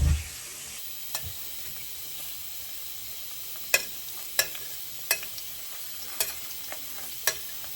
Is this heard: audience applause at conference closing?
no